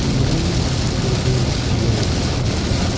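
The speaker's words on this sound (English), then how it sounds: "now it's starting to rain." Steady rain falling outdoors, a dense even hiss of drops with a low rumble underneath, constant and fairly loud for the whole stretch.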